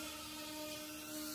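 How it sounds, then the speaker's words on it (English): Small RC helicopter hovers on a windy day, its rotor and motor giving a steady whine with a faint rhythmic bopping as it battles gusts, fairly quiet and continuous with no talking. "So you hear that bopping sound? That's the helicopter fighting the wind."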